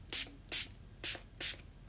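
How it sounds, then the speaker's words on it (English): Four quick, evenly spaced spritzes of a hyaluronic acid skincare serum mist from a small spray bottle, each a soft close hiss, with nothing else audible. "So I'm going to shake this up and I'm going to spritz it."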